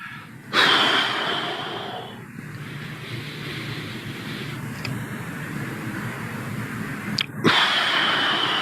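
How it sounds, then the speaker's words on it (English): A forceful exhale blown audibly through the mouth during a 4-7-8 breathing exercise, one long rushing breath near the microphone, then a quiet stretch and a second sharp breath near the end. "blow air out through your mouth audibly and forcefully"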